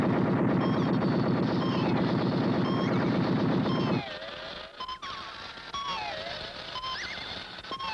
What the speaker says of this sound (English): Let's see you work those cannons.